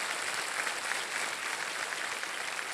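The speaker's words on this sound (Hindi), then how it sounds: "स्वागत है, तालियां बज जाए उनके लिए।" Studio audience on a TV quiz show breaks into steady, dense applause, a continuous wash of many hands clapping at even loudness throughout with no voices above it.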